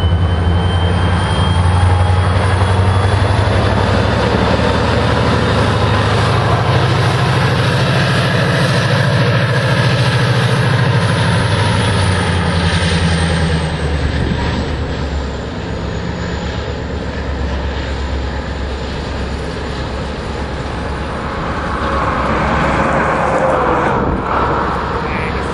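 A CSX GEVO locomotive passes close by on the line at Galesburg, a loud, steady low engine drone with broad rumble lasting throughout, easing slightly midway before swelling again.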